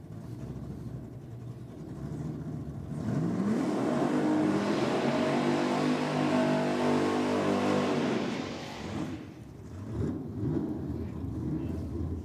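Big-block drag race car at a Grudge Kings race day revving on boost against the two-step, a low rumble swelling into a loud, sustained high-rpm roar for several seconds before dropping back to a rough idle.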